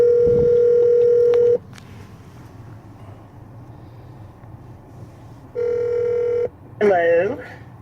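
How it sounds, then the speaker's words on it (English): Telephone dialing tones sound during a phone call made while fleeing a tornado, a long steady tone, a pause of background hum, then a second shorter tone followed by warbling ring tones. "Dialing."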